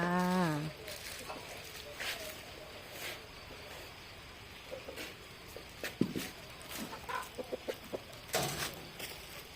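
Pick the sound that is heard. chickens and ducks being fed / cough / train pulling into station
chickens and ducks being fed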